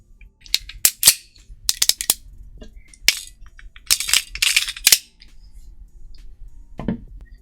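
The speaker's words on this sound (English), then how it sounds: "Pop this magazine out, nothing in there. See, nothing in the chamber." A Beretta 92FS pistol is handled on a tabletop as the magazine is popped out and the slide is worked to check the chamber, giving a series of sharp, close metallic clicks and clacks in bursts, with quiet gaps between them.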